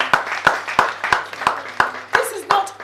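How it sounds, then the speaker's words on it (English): An audience claps in steady, evenly spaced beats, about nine sharp claps in under three seconds, close and fairly loud rather than a dense ovation. "Give him a rapturous applause."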